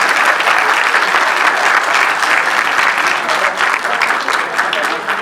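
An audience at an award ceremony for Punjabi books claps in sustained, dense applause that stays loud and even throughout, with a few voices under the clapping.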